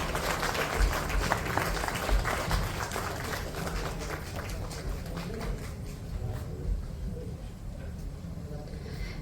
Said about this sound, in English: I think we should even clap more enthusiastically.